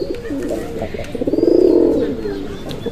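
A pigeon coos close by, a soft rolling warble that swells and fades over a few seconds.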